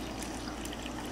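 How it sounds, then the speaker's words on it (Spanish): Cooking water is poured into a blender jar in a brief, soft, steady trickle lasting about a second, quiet and close with no talking. "también les agregaré el agua del cocimiento"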